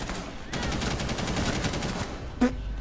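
Rapid bursts of automatic gunfire from the tactical shooter game Rainbow Six Siege, a sustained loud volley lasting about a second and a half, followed by a single sharp shot shortly after, with faint talk in the background.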